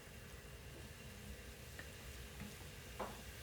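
Ground beef fries in a pan with a quiet, steady sizzle and a few soft scrapes of a spatula, heard without any talk.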